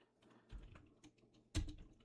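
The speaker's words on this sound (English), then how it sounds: "I'm not used to typing with this mic in front of my face." Keys clatter on a computer keyboard in quick, uneven bursts, with a louder cluster of strokes near the end; the typing is close and dry against a quiet room.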